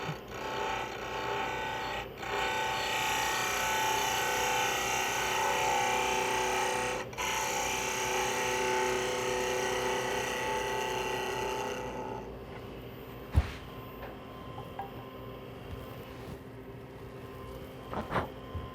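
A wood lathe turns a small wooden tulip petal while a tool rounds over its tip, giving a steady, close whirring cut that holds for about twelve seconds, then stops, leaving quieter handling noises and a sharp tap.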